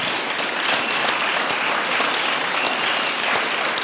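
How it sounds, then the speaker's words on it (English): A community summit audience gives a loud, sustained round of applause, with thick, continuous clapping close by and no voices on top for several seconds. "give him a big round of applause to thank him and his team"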